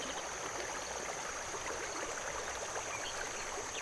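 Babbling brook in the video game The Night of the Rabbit, a continuous, even rush of flowing water that stays constant throughout with no voices.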